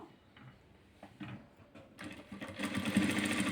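A sewing machine stitching a side seam on cloth, starting with a few soft mechanical clicks, then running into a fast, steady close-up whirring chatter that grows louder.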